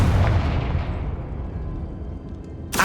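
A Confringo fire spell in the video game Hogwarts Legacy goes off as a loud deep blast, then a rumbling decay fades over a couple of seconds before a sharp crack at the end, with no voices.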